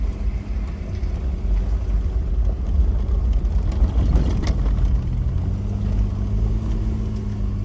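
A vehicle grinds in first gear along steep, switchbacking gravel back roads in rural Tennessee, its low engine drone steady and close, with crunching tires and cabin rumble and no talk.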